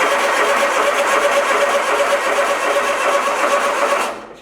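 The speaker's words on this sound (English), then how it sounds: "let's just wind the engine and we'll do old school bleeding" A trawler's diesel engine cranks over on its starter to bleed fuel, giving a loud, steady churning whir that runs without a break for about four seconds, then cuts off abruptly.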